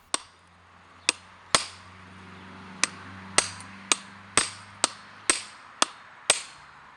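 A hammer strikes a chisel again and again to cut waste metal from a hot forged hook in a low-budget smithy, about eleven sharp ringing blows at an irregular pace, close and clear, with no talk.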